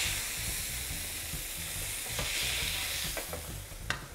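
Steak sizzling in a hot pan in a home kitchen, a steady loud frying hiss throughout with occasional sharp pops and crackles, no voices.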